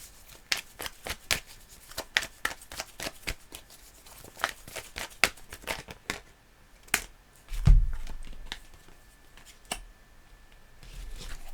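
A deck of cards is shuffled and handled in a quick series of crisp riffles and sharp snaps, close and fairly soft, ending with a few scattered taps as a card is drawn.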